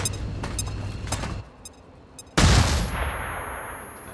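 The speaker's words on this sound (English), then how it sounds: "Go up there and flashbang the codex, please." A flashbang detonates in the video game XCOM: first soft game sounds and clicks, then one sudden loud bang that fades into a ringing, hissing tail.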